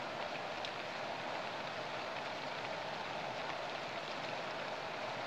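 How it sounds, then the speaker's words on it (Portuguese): Steady rain falling in the backlands of Paraíba, Brazil, a dense even hiss of drops throughout with no voices, fairly close and constant. "Chuva no velho sertão da Paraíba"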